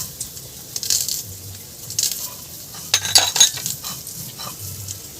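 Whole spices such as bay leaves, cloves, cinnamon and cardamom drop into a pot of boiling water for a Gobindobhog rice biryani, with a few soft clinks and splashes over a low steady bubbling.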